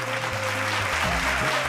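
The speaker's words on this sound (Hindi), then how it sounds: "एगो जोरदार ताली भैया।" Loud, steady applause from an audience at a Bhojpuri singing show's inauguration ceremony, filling the short moment without a break.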